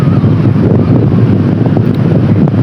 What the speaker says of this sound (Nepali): अनि हावा चाहिँ लास्टै लाग्ने छ यहाँ चाहिँ।